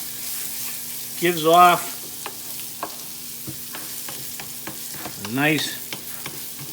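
Arborio rice being stirred in a hot pan for risotto, with a soft continuous sizzle and scraping stir sounds under brief speech.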